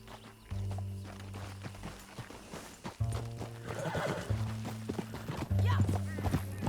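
Horse hooves clip-clop at a steady gallop in Red Dead Redemption 2, with whinnies and loud bursts of game sound cutting in, close and continuous under faint talk.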